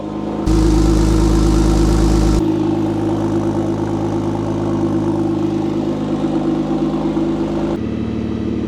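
Steady, close idle from a Porsche 997 911 Turbo with a custom exhaust warming up after a cold start, a constant low drone with a slightly higher fast-idle stretch at first that drops to a calmer hum.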